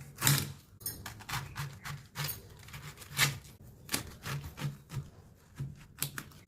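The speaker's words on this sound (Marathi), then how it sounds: "आता आपण हा कट करून घ्यायचा आहे." A knife chops through half a kilo of cabbage on a board, with a steady run of sharp, near cutting knocks and crisp slicing transients, alone without talk.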